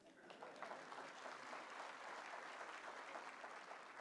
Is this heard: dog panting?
no